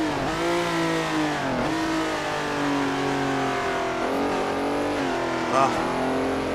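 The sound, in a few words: 60s sports car engine racing at Daytona, Assetto Corsa video game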